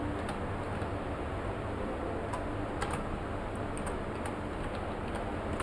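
Light typing on a computer keyboard while working in CorelDraw, with soft, irregular key clicks scattered over a steady background hiss and no speech.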